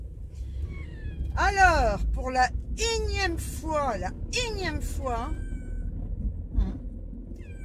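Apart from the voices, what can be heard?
cats meowing in a carrier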